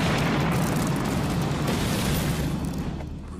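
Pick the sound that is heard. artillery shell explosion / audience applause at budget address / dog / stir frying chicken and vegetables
artillery shell explosion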